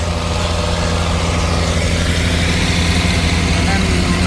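Loud, steady chugging of a John Deere 3020 diesel tractor engine running close by at a plowing day, a deep continuous rumble with no pauses.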